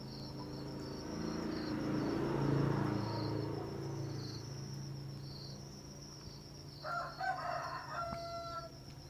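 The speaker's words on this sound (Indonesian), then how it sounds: "ini ternak jangkrik saya" Farmed crickets chirping in a continuous high shrill trill, with a rooster crowing and clucking nearby partway through, no speech.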